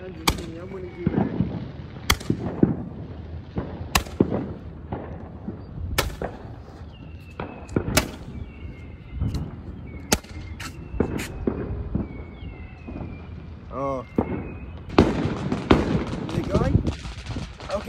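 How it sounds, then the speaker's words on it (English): Fourth of July fireworks and firecrackers going off outdoors, a string of sharp loud bangs and crackles at irregular intervals with whistling streaks and a crackling burst near the end, amid people's voices and talk. "me and my friend out here watching fireworks, and I'm about to shoot a Roman candle all by myself."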